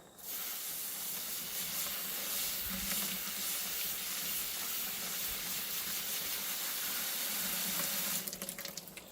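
Water trickling and seeping slowly through geo fabric, a soft continuous hiss and gurgle heard close up and alone, ending with a brief clatter near the end.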